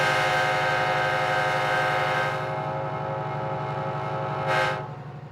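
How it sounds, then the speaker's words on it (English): An MTH model train's sound system gives a steady diesel engine rumble with harmonic drone throughout, and a brief horn burst near the end; no talking. "the barking of diesels, the blare of horns and whistles you sound at will"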